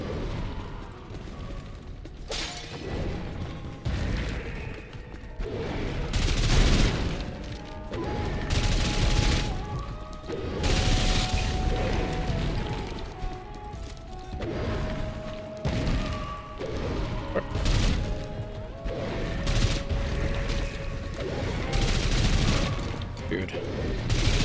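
A rapid-firing gun in the shooter game SULFUR lets off dense bursts and long volleys of shots with mechanical clatter and thuds, while a voice talks over much of it.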